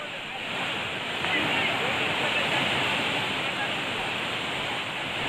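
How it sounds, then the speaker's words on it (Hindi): A fast-flowing river swollen by continuous rain, a dense, steady roar of rushing water, loud and close, with no let-up across the few seconds. "लगातार हो रही बारिश की वजह से नदी का उफान ज्यादा है"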